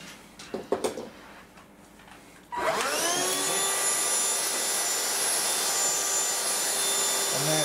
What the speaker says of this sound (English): now what we need to do is just hoover up the mess